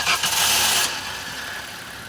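A Maruti Suzuki Fronx 1.2-litre petrol engine starts with a brief burst, then settles into a smooth, quiet, steady idle heard close up with no voices.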